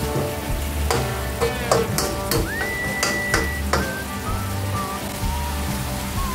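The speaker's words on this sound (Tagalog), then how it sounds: "At saka natin isasangkot sa ito hanggang medyo parang magmamantikan." Chicken liver and gizzards sauté in hot oil in a pan, giving a steady soft sizzle with scattered utensil clinks and scrapes against the pan and a few faint high tones through the sound.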